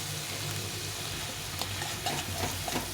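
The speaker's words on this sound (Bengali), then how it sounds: "আদা আর কাঁচা লঙ্কা বেটে রেখেছি এটা দিয়ে দেবো দিয়ে এটা দিয়েও ভালো করে একটু কষিয়ে নিতে হবে" Ginger and green chili paste sautéing over low flame, a steady sizzle and hiss with light stirring scrapes running throughout, close and fairly even in level, with no voices.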